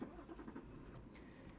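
A 2025 Toyota Land Cruiser ZX LC300 starts up, a brief starter crank followed by the engine catching into a low, muffled idle, heard from inside the cabin.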